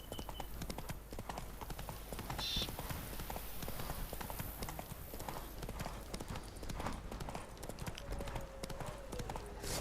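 Hooves of Roach, Geralt's horse in The Witcher 3, galloping in a steady rapid clip-clop rhythm, fairly quiet with faint ambient background.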